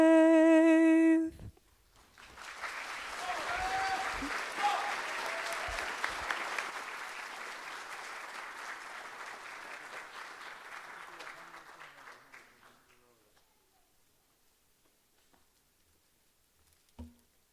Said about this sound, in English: We'll give Emery one more round of applause.